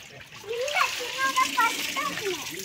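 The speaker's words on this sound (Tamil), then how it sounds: "தண்ணி ஊத்திக்கிறேன், கிளம்பு." Water pours and splashes for a bath, a steady splattering wash under the chatter of children talking nearby.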